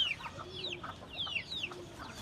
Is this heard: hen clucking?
yes